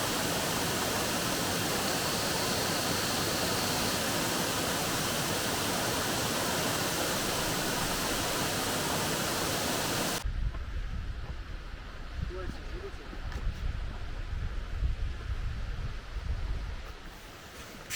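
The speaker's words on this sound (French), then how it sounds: "il y a la deuxième cascade qui se passe de commentaires aussi." A mountain waterfall on the GR 52 trail in the Vallée des Merveilles gives a loud, continuous roar for about ten seconds. The sound then cuts to a quieter, rumbling wash of water and wind.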